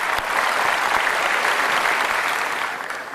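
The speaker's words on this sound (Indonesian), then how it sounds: "Kita kasih tepuk tangan dong Kakak Mike dan Kakak Bob." A television studio audience on an Indonesian talk show breaks into loud, sustained applause, a dense unbroken roar of clapping that holds strong and then tapers slightly near the end.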